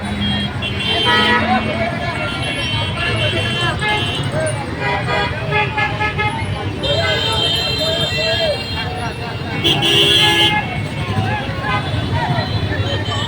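Dense, loud traffic jam at the busy Gollamari intersection, with cars and buses honking repeatedly over a steady engine rumble and crowd babble throughout.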